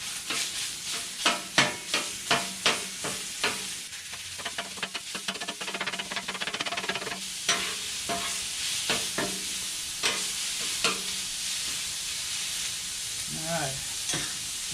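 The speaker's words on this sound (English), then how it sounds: "I have to brown some 80-20 ground beef" 80-20 ground beef sizzles as it browns in a pan while a spatula scrapes and stirs it, with quick clacks at first and then a steady hiss broken by more scraping.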